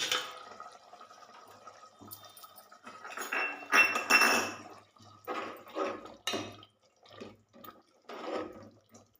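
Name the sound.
tomato pachadi boiling in pan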